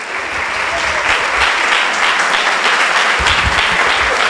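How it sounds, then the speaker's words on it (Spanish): Loud, dense audience applause at a Saturday training event, a sustained wash of many hands clapping with faint voices mixed in. "Un aplauso."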